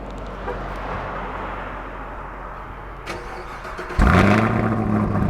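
A 2019 Chevrolet Camaro ZL1 engine cranks and fires up with a loud roar about four seconds in, then settles into a deep, rumbling idle close by.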